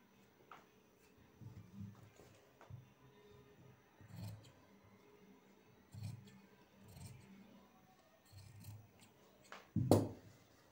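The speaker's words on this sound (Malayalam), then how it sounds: "നമുക്കിതൊന്നിങ്ങനെ കട്ട് ചെയ്തെടുക്കാം" Scissors cutting fabric for tailoring, with soft close snips and rubbing strokes at irregular intervals, ending in a sharper, louder cut near the end.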